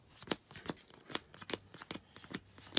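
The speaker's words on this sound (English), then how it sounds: "Let's power shuffle this." A deck of trading cards is power shuffled by hand in a run of quick, crisp riffling bursts, about eight in under three seconds, close and fairly quiet.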